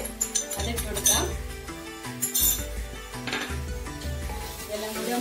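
Onion, green chilli and curry leaves are stirred in a pan, with a spoon clinking and scraping in irregular strokes over a light sizzle, and a voice speaks now and then.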